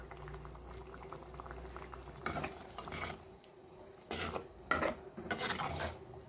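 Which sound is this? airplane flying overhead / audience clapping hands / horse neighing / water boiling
water boiling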